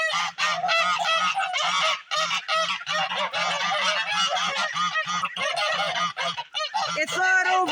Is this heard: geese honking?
yes